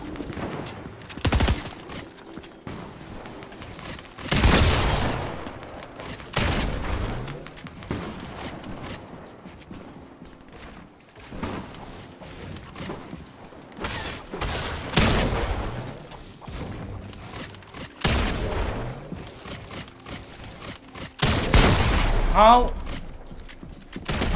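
Gunfire in Fortnite during a Star Wars solos match, with repeated bursts of shots and booms. The volleys come in clusters, some loud and close and others more distant, and talk sounds between them.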